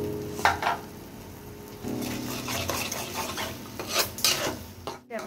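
Mashed bottle gourd seeds and egg frying together in a pan, a low sizzle under scraping spatula strokes and a few clinks of metal, close and moderately loud, without speech.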